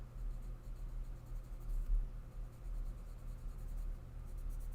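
Soft Woomer colored pencils shade on paper with a continuous close scratchy rasp that swells and fades slightly with the strokes, steady and fairly quiet, with no talking.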